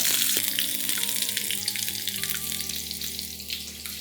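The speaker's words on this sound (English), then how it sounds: "Allow the onions now to turn completely golden brown." Sliced onions and garlic fry in a pan for a mushroom curry, producing a loud, steady sizzle with a crackling hiss that carries on throughout.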